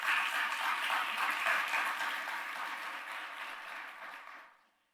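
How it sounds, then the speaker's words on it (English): An audience at a county government address breaks into sustained applause, a dense wash of clapping that holds steady for a few seconds and then fades out, with no voices over it. "Please give them a big round of applause for putting on this event every year."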